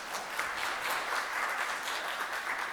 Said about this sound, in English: I'm sure you'd agree with me that they deserve a round of applause.